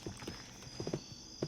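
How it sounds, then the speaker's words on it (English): Horse hooves clip-clop in a Wild West video game, light irregular thuds in small clusters over a steady high hum, fairly quiet. "Gonna ride my horse."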